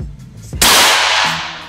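A single sharp airsoft gun shot fired with a Ghost Warrior regulator cracks out close and loud, followed by a short hissing decay, with no talking around it.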